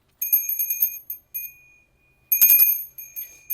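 A small temple bell rings in quick repeated tings during Hindu worship, pauses, then rings again in a louder burst of rapid strokes, clear and close.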